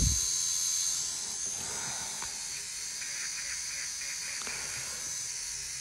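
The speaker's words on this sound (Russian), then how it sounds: "И потихонечку сначала полирую, отполировываем кожу." An electric pedicure machine polishing the skin of a foot, giving a steady, thin high-pitched whine and hiss that runs continuously at moderate level with no talking.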